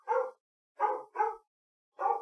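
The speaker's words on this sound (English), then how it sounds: "that's a dog going psychotic" A dog barks frantically in four sharp, mid-pitched bursts, three close together then one after a short pause, clear and alone with no talking.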